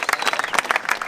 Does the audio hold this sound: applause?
yes